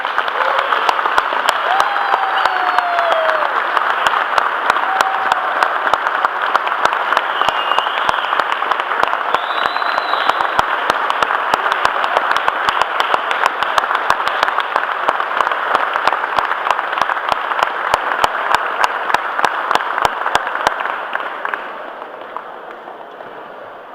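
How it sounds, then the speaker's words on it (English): A ceremony audience honoring a colonel claps loudly and steadily for about twenty seconds, a dense, continuous wash of applause with a few scattered whoops, before it thins out and fades at the end. "One more big round of applause for the Colonel"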